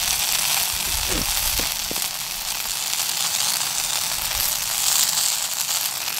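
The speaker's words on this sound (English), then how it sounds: "I'm cooking these acorn cakes in cast iron" Acorn cakes frying in a cast iron pan give off a steady, hissing sizzle with a few brief pops, moderately quiet and continuous throughout.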